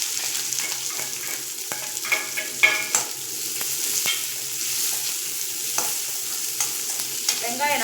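Chopped onion, green chilies and curry leaves sauté in hot oil for a potato and green pea mash, with a continuous sizzle and repeated scraping stirs of a spatula against the pan, close and without talk.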